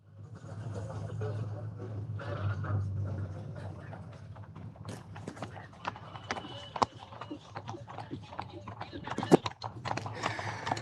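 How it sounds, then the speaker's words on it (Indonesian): Cavalry horses enter the grounds of Merdeka Palace in Jakarta during a state welcome ceremony, many hooves clip-clopping in an irregular stream on hard ground, with a low crowd murmur and distant speech underneath. "pasukan berkuda ini sudah mulai memasuki halaman Istana Merdeka Jakarta"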